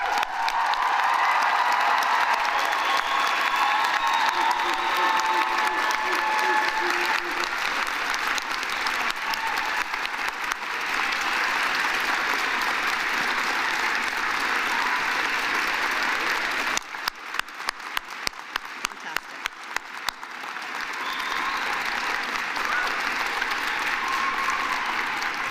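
Sustained applause fills a June 2023 university graduation convocation ceremony, a dense wash of many hands clapping that swells, dips briefly into scattered claps, then resumes.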